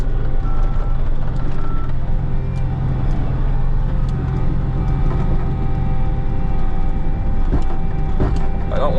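A loader with a bucket rumbles steadily across a backyard, its loud low engine drone continuous under faint intermittent tones that may be reversing beeps and a few clanks.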